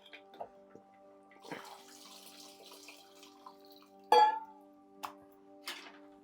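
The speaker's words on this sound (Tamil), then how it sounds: "புளியை வந்து நல்லா கரைச்சி உள்ள ஊற்றிக்கோங்க" Dissolved tamarind water poured into a pot of sambar with drumstick, raw mango and brinjal, heard as brief splashes and drips over a steady background hum.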